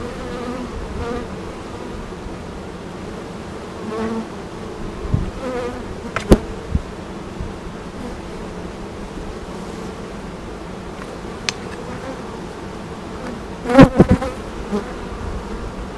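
Honey bees buzz steadily around an open hive during a swarm-season inspection, a continuous close drone with a few sharp clicks and knocks from handling the frames, and no voices.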